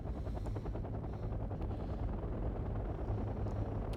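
Mi-24A helicopter in the video game Wargame Red Dragon, a loud, continuous low rotor thrum with rapid rhythmic beating, steady throughout and heard alone.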